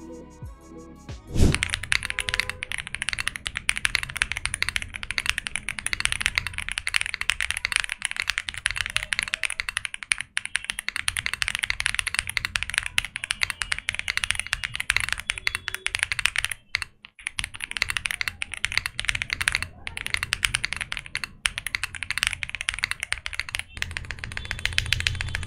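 Typing on a custom keyboard fitted with Leobog Graywood V4 switches on an FR4 plate: a dense, continuous stream of close, crisp keystroke clacks, with a few brief pauses and no talk.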